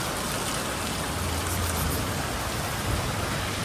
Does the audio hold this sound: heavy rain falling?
yes